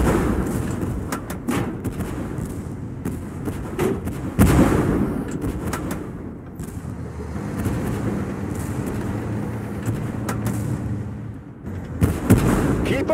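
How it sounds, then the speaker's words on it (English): Repeated gunfire and heavy cannon thumps ring out in a tank video game, irregular bangs and booms over a rumbling background with some talk. "We are under gunfire!"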